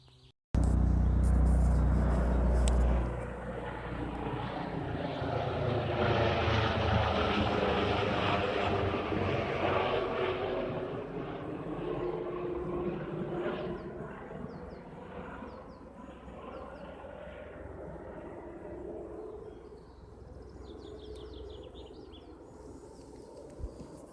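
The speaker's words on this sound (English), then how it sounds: "That was a helicopter, a hospital, a medical helicopter." A medical helicopter flies over, its rotor roar swelling loud overhead and then slowly fading into the distance, with no talking.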